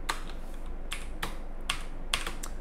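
Fingers tapping a computer keyboard in short bursts, clusters of crisp clicks separated by brief pauses, close and clear over a quiet room.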